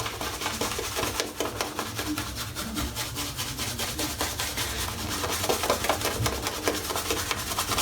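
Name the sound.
shaving brush lathering soap on a head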